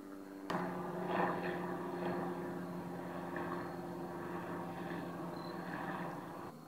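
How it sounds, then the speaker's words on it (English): A helicopter passes overhead outdoors, a faint steady whirring drone with a low hum that starts suddenly and keeps a fairly even level throughout, with no talking. "Hang on guys, we got a helicopter flying over."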